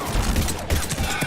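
Gunfire in the Mass Effect 3 video game: a quick volley of several sharp, close shots in rapid succession across a brief burst.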